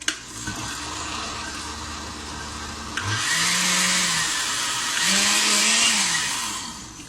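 A blender whirring through very hot peppers for a spicy sauce, starting as a low steady hum, then rising into two louder, roaring bursts of blending at close range.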